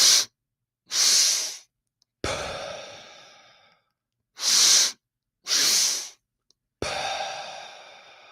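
Rhythmic breathwork with close, loud nasal breaths: paired sharp sniffs followed by a long, slowly fading exhale, repeated twice with short silences between.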